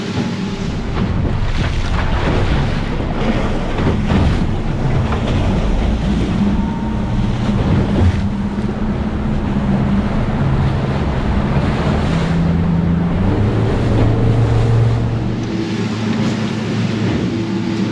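A Surtees 700 Gamefisher boat's engine drones steadily in a following sea while ocean water rushes and splashes against the hull, with wind buffeting the microphone throughout.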